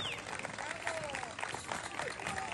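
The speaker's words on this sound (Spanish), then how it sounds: "¡Más fuerte el aplauso para nuestros terceros campeones nacionales, categoría jóvenes del cobre." Rodeo crowd applauding national cueca dance champions, a faint, distant wash of clapping and cheering mixed with voices and whistles in the background.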